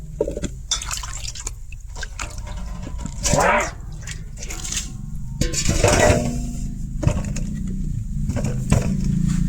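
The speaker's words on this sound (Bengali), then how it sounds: "জলটা ফেলাই দিন।" Water drained off soaked radish in a kitchen, heard as splashing, dripping pours in a few bursts of liquid sound, fairly close and moderately loud, with no speech over it.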